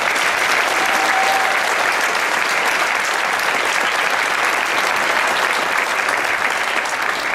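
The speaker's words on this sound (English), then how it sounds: "So let's give them one more round of applause." Sustained audience applause at a high school choral concert, steady dense clapping filling the hall throughout without a break, no talk over it.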